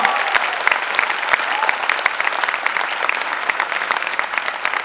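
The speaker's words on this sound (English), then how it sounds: "I think it deserves a huge round of applause." Audience applause at a Republic Day function at a college, a sustained crowd of many hands clapping evenly and fairly close, filling the whole stretch without a break.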